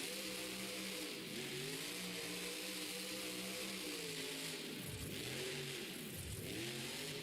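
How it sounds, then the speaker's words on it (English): Monster truck engine revving in a San Diego stadium during a Monster Jam show, a loud mid-pitched roar that swells and dips through several deep throttle swoops, with crowd noise underneath. "Are you gonna drive the truck right over the dirt?"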